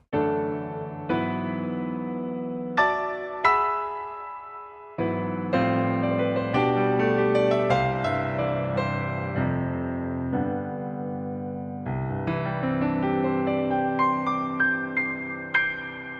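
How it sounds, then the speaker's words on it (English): Rich Yamaha CFX concert grand piano sound from a Yamaha Genos arranger workstation playing alone, full chords and melodic runs ringing out with sustained resonance, loud and close. "what you heard there was not only an amazing piano sound"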